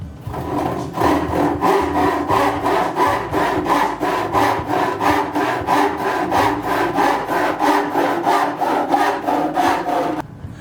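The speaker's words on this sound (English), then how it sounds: "This end was cut with the 10 tooth per inch." A hand saw with 10 teeth per inch cuts through wood in about twenty-five even back-and-forth strokes, a rhythmic rasping close by that stops abruptly at the end, with no talking.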